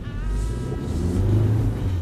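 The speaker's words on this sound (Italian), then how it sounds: "E questa è la Giulietta dei tempi nostri, motore 2000, turbo diesel da 150 cavalli" A 2.0 turbo diesel Alfa Romeo Giulietta rated at 150 horsepower, its engine giving a deep, steady drone with low harmonic hum that rises slightly toward the middle, close and loud with no talk.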